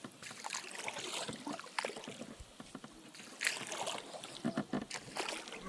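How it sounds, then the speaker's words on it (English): A canoe is paddled through very thick grass, making faint, close swishing rustles and small watery trickles and splashes in uneven strokes. "It's almost hard to paddle through. It is hard to paddle through."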